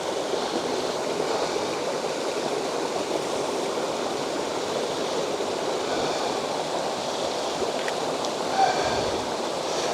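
A waterfall cascade pours steadily outdoors, a broad, constant rush of water that stays even and fairly close throughout with no pauses.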